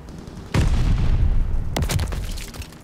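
Heavy gunfire from Call of Duty: Vanguard, a WWII shooter, in a Hardpoint match: two loud, booming blasts about a second apart, each trailing into a rumbling, noisy tail, with no talking.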